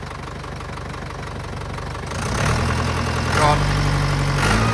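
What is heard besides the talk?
tractor engine starting and revving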